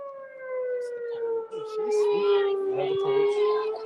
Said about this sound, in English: Yeah, you hear the siren?